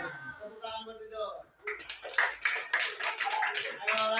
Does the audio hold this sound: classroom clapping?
yes